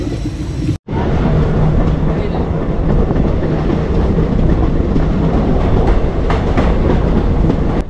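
Amaravati Express on the Kolkata to Goa route running between stations gives a loud, continuous rumble with rhythmic wheel clatter. The sound cuts out briefly near the start, then holds steady.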